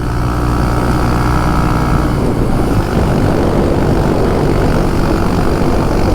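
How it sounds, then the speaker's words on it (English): Heavy, constant wind roar buffets a rider on a 2022 Honda Monkey motorcycle in a headwind, with a dense low rumble of engine and air noise, loud and steady throughout with no talk. "But this headwind here, yeah, we're kind of struggling a little bit here."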